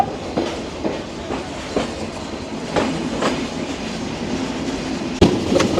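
Simanta Express rolling through the night from Darshana station, wheels clicking over rail joints in a steady clickety-clack under a continuous rumble, with a sharp loud clank near the end.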